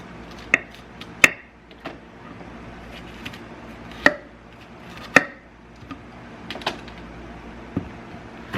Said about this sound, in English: Slice it in half.